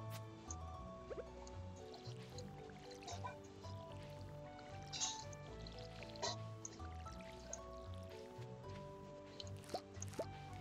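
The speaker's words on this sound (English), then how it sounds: "we're going to come over here and water our plants" Crops being watered in the farming video game Stardew Valley: a soft, continuous run of watery drips, squishes and splashes over light game music, with occasional brighter plinks, all fairly faint.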